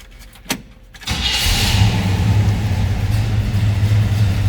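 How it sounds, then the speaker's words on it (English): A 1971 Chevrolet C10 pickup's engine catches after a brief crank and a few clicks, then settles into a steady, close, even idle with a low rumble that continues to the end. "Let's go ahead and fire this up so you can hear it run"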